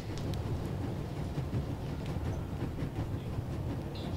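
A burning train in the video game The Raven rumbles and clatters in a steady, low, continuous roar with scattered sharp metallic clicks over it.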